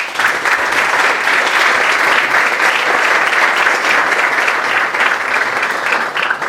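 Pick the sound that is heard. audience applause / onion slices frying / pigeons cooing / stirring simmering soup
audience applause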